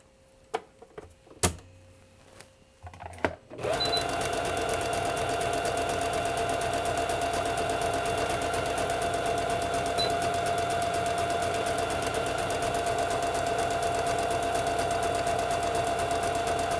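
A sewing machine starts stitching after a few taps and clicks, then runs steadily with a fast, even mechanical whir and ticking for the rest of the span, no voices.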